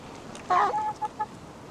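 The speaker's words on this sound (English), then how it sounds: "we have some chickens here that want to say hello" A few short clucking calls from hens, close by, with a brief burst followed by two quick clucks against a quiet background.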